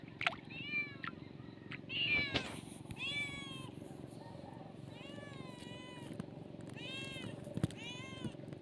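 A cat meows repeatedly, several drawn-out calls spaced through the clip at moderate distance over a low steady hum, with a few sharp knocks and brief voices early on.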